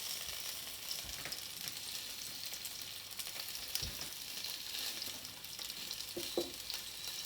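Chipolata pork sausages fry in a Remoska Tria, giving a quiet, steady sizzle with a few soft clicks and pops scattered throughout.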